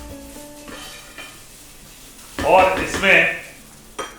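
A spoon scrapes and stirs a beetroot and coconut modak filling in a pan, with soft sizzling and a few sharp scraping bursts heard up close, while a person speaks at the start.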